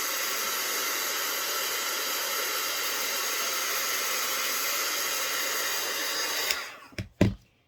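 A loud, noisy heat tool blows hot air in a steady, close hiss for about six and a half seconds, then cuts off, followed by a couple of brief knocks.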